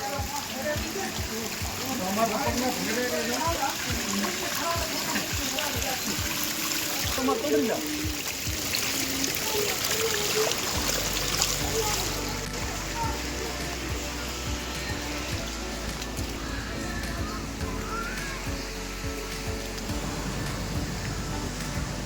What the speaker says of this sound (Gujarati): પગથિયામાંથી પણ પાણી કેટલું મસ્ત મજાનું વહી રહ્યું છે